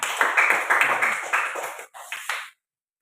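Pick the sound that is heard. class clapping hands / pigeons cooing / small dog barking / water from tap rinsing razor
class clapping hands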